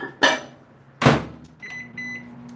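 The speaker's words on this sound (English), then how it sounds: "I'm gonna put this in the microwave" A kitchen microwave oven is started to melt coloring chocolate: two sharp clunks of the door and keypad, then a soft electronic beep as the oven begins its low, steady hum, close and clear with no talking.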